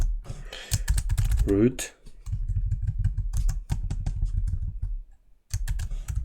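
Rapid clattering keystrokes on a computer keyboard run almost continuously at close range, with a short spoken word midway and a brief pause near the end.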